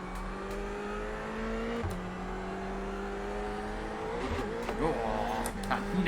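Ferrari race car engine redlining in iRacing, a steady high-pitched drone with shifting pitch and some tire noise, running continuously in the foreground.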